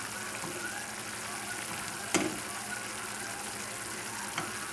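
Hot dogs cook fast in beer with onion and garlic, giving a steady, fairly quiet sizzle and bubbling throughout, with two brief clatters of a utensil against the pan.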